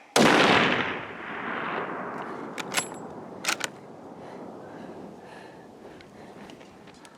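A rifle shot at a bull elk 400 yards uphill in the Wyoming high country: one sharp, loud crack that rolls out into a long fading echo, followed by a few faint clicks.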